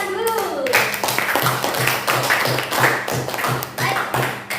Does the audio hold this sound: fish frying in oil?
no